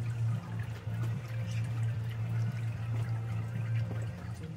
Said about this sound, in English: That sparge, we'll just now leave that to drain totally